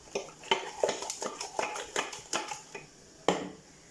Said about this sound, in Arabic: غادي نحرك هادشي مزيان